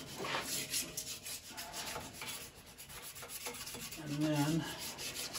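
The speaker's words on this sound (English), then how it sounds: "put it right here, and start sanding that." Wet sandpaper works over primer on a wooden toy, steady close rubbing strokes that swell louder near the end, with a brief spoken word at the start.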